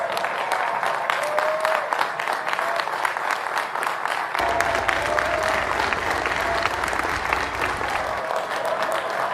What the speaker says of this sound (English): All these people are clapping for President Biden after he just finished his speech